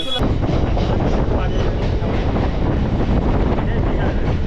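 A steady, loud rumble of a train moving nearby at Bira railway station, with rattling noise and wind buffeting throughout.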